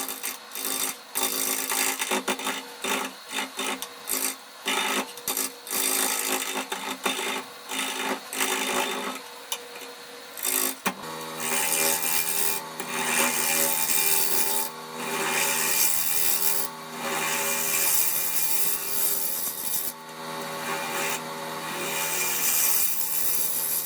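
Wood being rasped off a surface with a file, continuous rhythmic scraping strokes, loud and close, the rate of strokes quickening partway through.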